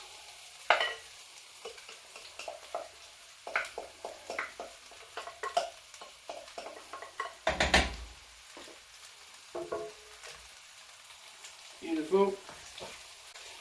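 Chilies and sauce ingredients hit hot oil in a pan for buffalo wing sauce, giving a loud burst of sizzling with stirring and scraping, then a steady fry, with a brief spoken word over it.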